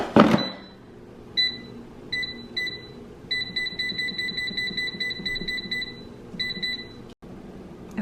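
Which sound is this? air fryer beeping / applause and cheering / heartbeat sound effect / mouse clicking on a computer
air fryer beeping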